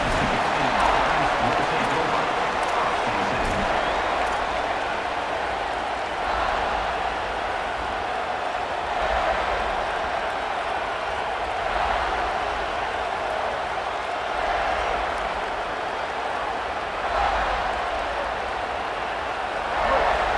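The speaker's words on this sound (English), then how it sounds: "Listen to this crowd just shaking the girders of this place" A large stadium crowd in EA Sports College Football 27 roars steadily throughout a Mississippi State at South Carolina game, a dense wall of cheering and noise with faint swells, heard from within the stands.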